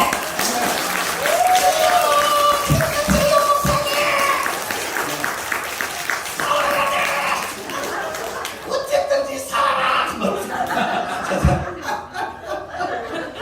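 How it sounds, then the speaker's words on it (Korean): Church audience claps for the pastor during a ventriloquist's visiting performance, clapping mixed with chuckles and laughter while voices talk over it. "박수라도 쳐야지"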